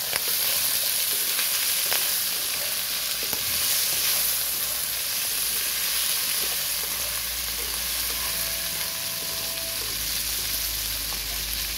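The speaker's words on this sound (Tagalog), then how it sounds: "Ang haluin natin." Spicy pork binagoongan stirred in a hot pan, with a loud steady sizzle and hiss running throughout and faint scraping of the utensil now and then, no talk.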